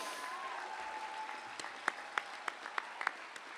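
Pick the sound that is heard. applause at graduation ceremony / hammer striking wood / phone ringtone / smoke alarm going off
applause at graduation ceremony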